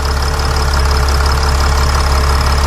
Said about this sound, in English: So the engine is running, the engine sounds good.